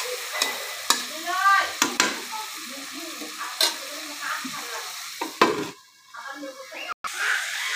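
Spice masala frying in oil in a pan while being stirred: a loud, close sizzle broken by scraping strokes and metallic clatter, with a brief near-silent gap before the frying resumes.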